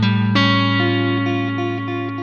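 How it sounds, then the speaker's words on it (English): Electric guitar with a lo-fi, effects-laden tone sounds an A dominant 7 sharp 5 chord, struck once and then re-struck, sustaining loud and close. "So I'm playing an A dominant 7 with a sharp 5."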